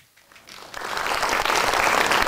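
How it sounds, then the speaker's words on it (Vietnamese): Applause at a Mid-Autumn festival camp gathering in a Vietnamese village, starting from quiet, swelling quickly into a loud, sustained burst of many hands clapping. "Chúng ta cho một tràng pháo tay để lấy không khí và tâm hồn."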